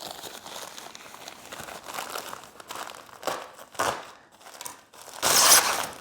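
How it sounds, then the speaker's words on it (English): Crinkly rustling and scraping of a zipper and fabric as a COROS Apex 2 Pro watch case is pulled open, ending in a louder, brighter burst of rasping noise. "Let's just zip it open."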